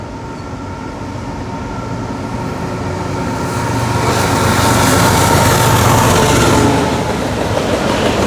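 Freight train passing up close with an AC44 locomotive second in the consist and a flatbed carrying a Siemens electrical generator behind, a steady rolling rumble and rail clatter that swells loudest midway then eases slightly.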